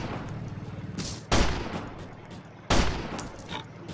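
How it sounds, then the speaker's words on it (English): A minigun in the Roblox game Tower Battles fires in two sudden loud bursts of dense rapid gunfire, each cutting in sharply and then tapering into a rattling tail, with background game noise continuing throughout. "the commando's minigun spins"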